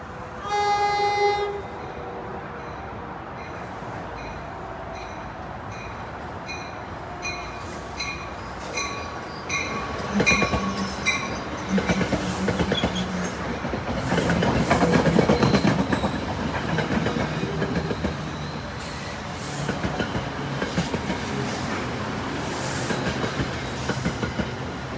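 An inbound local commuter train arrives at Secaucus station on the Northeast Corridor, sounding a horn blast first, then rumbling closer with rhythmic clickety-clack wheels and brake squeal as it pulls in.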